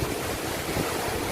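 A waterfall near Manali gives a steady, broadband rush of falling water. It holds at an even level with no gaps, and no voices are heard over it.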